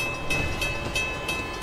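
A train in the action game Uncharted 2 rolls along with a loud steady rumble and regular clickety-clack beats, close up and with no talking.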